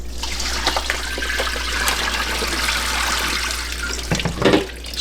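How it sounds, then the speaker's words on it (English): Boiled potatoes draining through a strainer, a steady rush of pouring water splashing into a sink for several seconds, close and unbroken, with a low hum underneath and a few clatters near the end. "Strain the potatoes."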